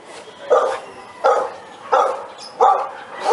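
A dog barks four times at a steady, evenly spaced rhythm, each bark clear and fairly close, with little else around it.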